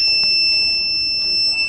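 A touchless fog-disinfection hand-washing machine sounds its buzzer, a loud, steady high electronic tone held for the whole moment.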